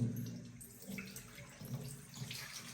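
Water running steadily from a tap during handwashing at home, a soft, continuous faint splashing with no voices.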